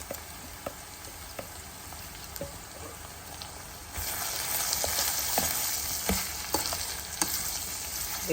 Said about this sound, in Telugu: ఓన్లీ ఉల్లిపాయలు పచ్చిమిరపకాయలు వేగాలి